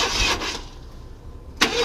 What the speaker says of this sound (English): we're going to turn the motor over, make sure everything's good